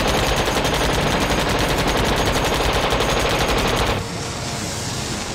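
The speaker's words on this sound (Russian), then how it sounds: "Стреляй, Боя!" Sustained machine gun fire roars in a war film battle scene, a loud, rapid, unbroken burst that cuts off abruptly after about four seconds, leaving lingering rumble and noise.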